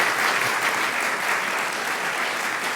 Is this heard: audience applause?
yes